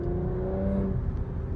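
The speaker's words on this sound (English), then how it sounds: "but this has a louder exhaust for sure" Porsche Macan GTS exhaust revving, a short steady engine drone with a rising tone, heard from inside the car at moderate loudness.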